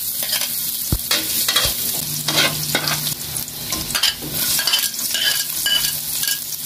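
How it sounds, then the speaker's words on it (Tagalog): Banana heart, onion, garlic and ground pork sautéing in a pan, with a steady broad sizzle and repeated scraping stir strokes and a couple of sharp utensil knocks against the pan, close and fairly loud, no talking. "Ngayon, igigisa naman natin yan."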